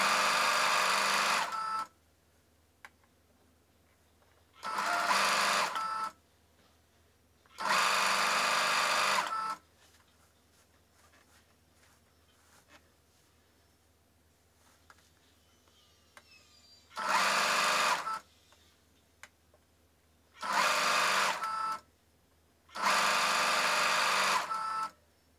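A sewing machine stitches fabric for a scrunchie in six loud bursts of rapid whirring, each lasting one to two seconds, separated by quiet pauses with faint handling sounds.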